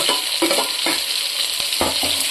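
Onions, tomato and salt sautéing in a pan for mutton biryani, a loud close sizzle with a few quick scraping stirs of a spoon; no one speaks.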